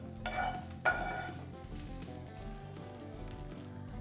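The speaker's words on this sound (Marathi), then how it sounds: "फक्त एक चमचा तेल घालून आणि मेथी अशी परतून घ्यायची" Fenugreek leaves frying in a spoonful of oil in a pan, giving a soft, steady sizzle with a couple of brief louder crackles near the start.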